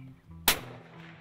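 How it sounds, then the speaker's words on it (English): A single sharp rifle shot fired at a buck during a hunt cracks out loud and close, then trails off into a short outdoor echo. "I squeezed off a shot"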